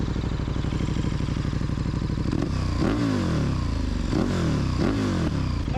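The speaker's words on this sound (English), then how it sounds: "Actually, it's leaking, this exhaust." A 2020 KTM 1290 Super Duke R motorcycle engine with a leaking exhaust and missing clamp idles loudly and steadily, with a rough, chuffing exhaust note and a few brief revs rising and falling near the end.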